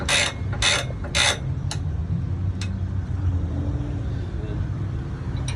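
Mechanical clicking and ratcheting as a screw knob is wound on the coupling of a Broadwater Hinchinbrook E13 camper trailer, a few bright close clicks early then softer taps, over low rumble and faint background voices.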